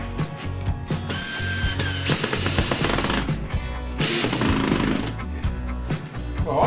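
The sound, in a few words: screw being driven in while building a commissioned piece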